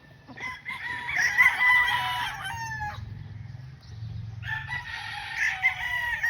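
A Sweater Gilmore gamefowl rooster crows loudly and close by, two drawn-out cock-a-doodle-doo calls split by a pause, over low background murmur.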